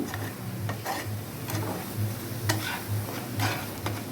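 Salted brinjal mash for masala baingan bharta being stirred and mixed in a pan, a low sizzle under regular scraping strokes of a spoon at an even rhythm, with no talking.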